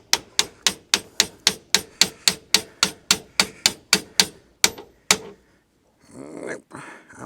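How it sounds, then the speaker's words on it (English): A hammer strikes a car's suspension parts, about fourteen sharp metallic blows in a steady, fast rhythm, then a pause, a final blow and some shuffling workshop handling noise. "Where's my hammer?"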